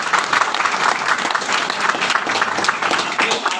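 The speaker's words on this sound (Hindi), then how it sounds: "सर के लिए एक बार जोरदार तालियां।" An audience at a seminar event claps steadily and loudly throughout, a dense continuous wash of many hands with no break.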